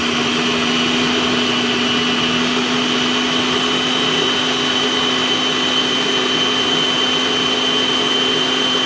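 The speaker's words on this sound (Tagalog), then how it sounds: "Sa food processor ko siya nilagay" A food processor chopping pineapple whirs steadily at high speed, a continuous loud motor drone with a faint rattling texture, running without pause.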